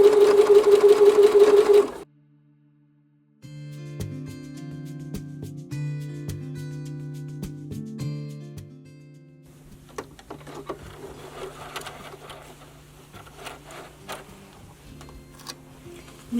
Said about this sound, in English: both sides are sewn together